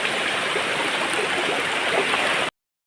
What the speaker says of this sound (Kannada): ಹೊಳೆ ನೋಡಿ ಅಂತೆ